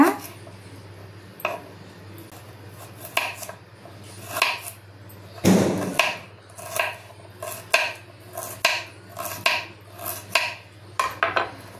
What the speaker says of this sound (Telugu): ఇప్పుడు ఇవన్నీ సన్నగా ముక్కలు కోసుకుందాం